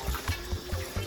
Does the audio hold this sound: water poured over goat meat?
yes